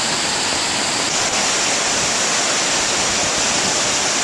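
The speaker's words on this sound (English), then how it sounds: "I expect that we may see the record height of the creek in this storm" Brandywine Creek running high and fast during Hurricane Sandy, a steady, loud, unbroken roar of rushing water with no voices over it.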